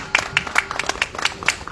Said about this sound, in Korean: 우리 강영구 장로님 다시 한번 박수 부탁드리겠습니다.